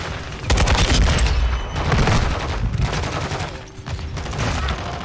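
Rapid automatic gunfire rings out in Call of Duty during a Call of Duty League Major 4 qualifier match, with dense repeated bursts and a brief lull before the shooting resumes, loud and close.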